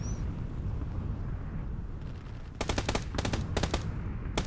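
Enemy automatic gunfire in a video game, a few fast bursts of sharp cracks that start after a steady low rumble and repeat in quick clusters, loud and close.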